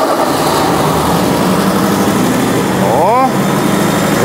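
A car engine runs steadily at idle just after starting, a close, loud, even mechanical drone with a brief rising whine near the end, while a voice speaks over it.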